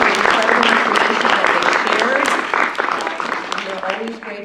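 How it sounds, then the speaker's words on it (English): Audience applause for panelists and moderators at a women's leadership event, steady dense clapping that gradually thins out, mixed with some voices. "please join me in a round of applause for our panelists, for our moderators"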